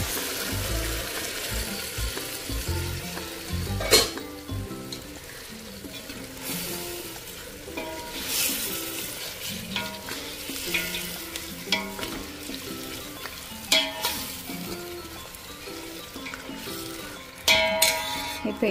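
Mutton sizzles and fries in a pot for biryani while being stirred, a steady hiss with repeated clanks and scrapes of the spoon against the metal and a few sharp knocks, close-up, with a voice over part of it.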